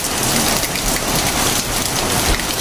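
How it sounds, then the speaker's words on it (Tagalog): Steady, heavy rain falls during a short rainy-season downpour, a dense continuous hiss of drops drumming on surfaces nearby, with no voices. "Kaunting ulan lang yan, guys."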